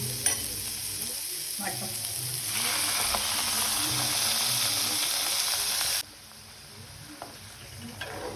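Half-cooked prawns sizzle in a pan while a masala filling is stirred in, a steady close hiss with scraping stirs, louder midway then dropping sharply to a quieter sizzle; a brief word is spoken.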